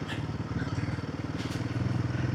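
A motorcycle engine-brakes down a loose, steep dirt slope on a Mahabaleshwar to Mumbai ride near Pratapgad. It gives a steady, close, pulsing low rumble throughout.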